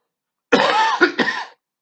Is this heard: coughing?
yes